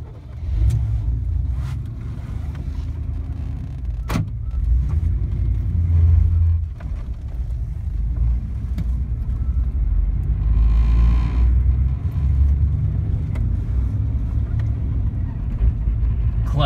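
A 1994 GMC Stepside pickup with a heavy, spring-type manual clutch drives on a test run. Its engine rumbles low and steady throughout, with a deeper swell around the middle. There are faint cabin rattles and a single sharp click.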